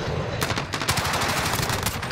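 Dense, rapid automatic gunfire in the Call of Duty Modern Warfare video game, loud and continuous across the whole moment with overlapping shots and no talking.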